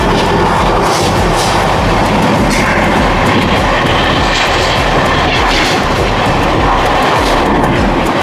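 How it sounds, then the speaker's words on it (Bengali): The 12875 Puri–Anand Vihar Nilachal Express thunders past at close range, its loud continuous rumble and wheel clatter filling the whole stretch without a voice. "আমাদের ট্রেনের সাথে দেখা হতে চলেছে 12875 পুরী আনন্দ বিহার নীলাচল এক্সপ্রেসের।"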